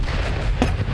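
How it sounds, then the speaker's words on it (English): A grenade thrown into a room explodes in the video game Aftermath, a single heavy boom with a sharp blast amid a low rumble of game noise, brief and fairly loud. "I threw a grenade in there."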